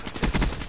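A video game shotgun fires a quick burst of three or four close, loud blasts in under a second, with no talking.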